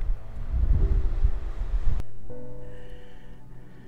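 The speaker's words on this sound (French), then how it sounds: "il y a un vent à décorner les bœufs" Strong wind on a mountain summit in the Pyrenees, around 2,400 m, roars and buffets for about two seconds, then cuts to a quieter, steadier gusting hum.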